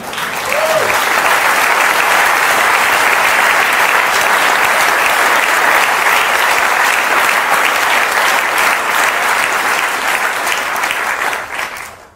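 A large audience applauds at a German cabaret show, dense sustained clapping that fills the whole stretch at high volume before fading at the very end.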